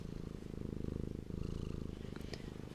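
A pet cat purrs steadily and close up, a continuous low rhythmic rumble through the whole stretch with faint rustling near the end.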